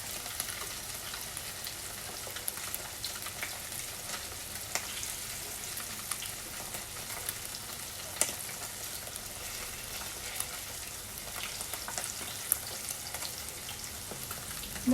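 Japanese tofu pan-fries in oil over medium heat, giving a steady, close crackling sizzle with scattered pops and light spatters that carry on evenly throughout, without any talking.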